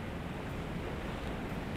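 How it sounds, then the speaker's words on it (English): Big ocean rollers break and wash in along the shore as a steady, broadband roar, fairly faint and distant, with some wind rumble and no voices. "Look at these big rollers coming in."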